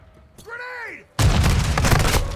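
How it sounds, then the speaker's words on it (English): A grenade blows up in Call of Duty MWII: after a brief tonal game sound, a sudden loud explosion hits and its roar and debris noise continue to the end. "got me with a damn grenade"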